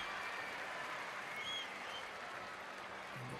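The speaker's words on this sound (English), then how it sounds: "And the crowd goes wild." At an outdoor athletics championship pole vault, a stadium crowd applauds steadily with a broad wash of clapping and cheering, heard from a distance.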